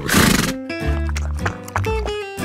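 A horse neighs loudly beside a farm water trough, a drawn-out whinny followed by snorts and breathy calls, close and dominant with faint hoof clops.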